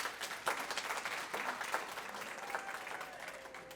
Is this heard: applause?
yes